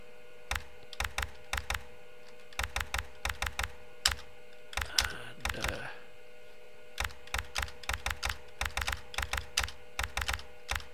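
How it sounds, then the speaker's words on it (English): Keyboard typing from the puzzle game MHRD: quick bursts of crisp key clicks in irregular clusters, close and clear, with a brief stretch of muffled talking in the middle. "Jingju, the keyboard sounds you are hearing come from this game"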